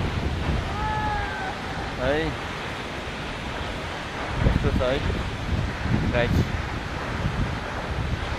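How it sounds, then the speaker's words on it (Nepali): Fungfungey waterfall in Taplejung, eastern Nepal, gives a steady, rushing roar of falling water throughout, with someone talking over it and a few brief whistling tones. "यो झरना"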